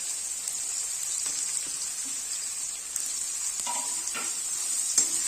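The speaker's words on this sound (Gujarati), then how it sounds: "પછી અંદર આપણે કેપ્સિકમ નાખી દઈશું અને એને પણ સાતરી લઈશું. અને કોબી પણ આપણે સાતરી નાખી દઈશું." Capsicum and cabbage sauté in a hot pan for veg hakka noodles, making a steady sizzle with occasional light stirring clicks and scrapes.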